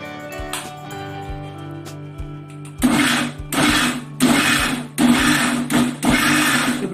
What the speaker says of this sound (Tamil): இப்போ நம்ம மிக்சி ஜாரை வந்து மிக்சியில் போட்டு அடிக்கலாம்.